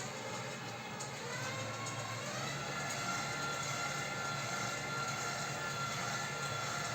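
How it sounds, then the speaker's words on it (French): An electric mixer beats chocolate génoise sponge batter at moderate speed, making a steady, close, continuous whirring hum that slowly grows slightly louder. "Nous allons battre à vitesse modérée."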